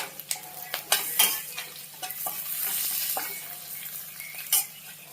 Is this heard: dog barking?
no